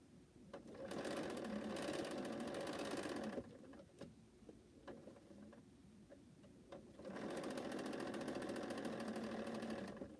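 A sewing machine runs fast through quilt block seams in two long bursts separated by a quieter pause with small handling clicks and ticks, close and steady.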